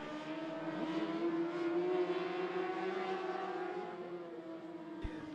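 Mod Lite race cars roaring around the I-75 Raceway oval during a heat race, a steady, loud droning engine whine with overlapping cars rising and falling in pitch as they pass, continuous throughout with no talking.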